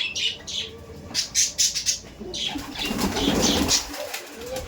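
A flock of large Kaldom pigeons in a loft takes off together, wings flapping in repeated loud bursts close by, with soft chirps and coos in the background.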